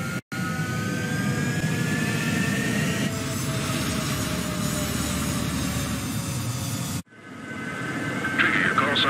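Jet engines roar steadily as fighter jets, including an F-14, prepare to take off in the video game Ace Combat 7, with a broadband rumble that cuts out and returns partway through.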